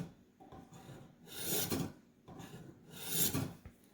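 An old Kabar knife drawn across the rods of a Warthog knife sharpener, two distinct rasping strokes, close and fairly quiet, with no voices.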